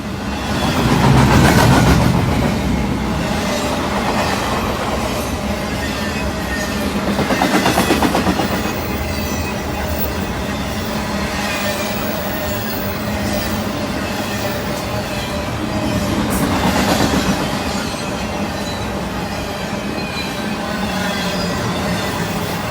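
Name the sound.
BNSF freight train with Canadian Pacific SD70ACU locomotive passing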